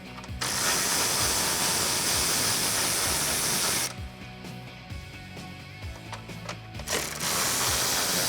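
Ratchet clicking as 10mm grille bolts are loosened and removed on a RAM 1500 pickup, steady close-up pawl clicks with a brief quieter pause midway, no talking.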